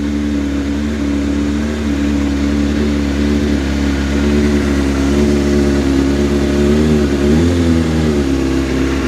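An older motorcycle with an automatic choke idles and revs loudly up close, a steady mid-pitched engine drone with a couple of gentle swells in speed and no voices over it.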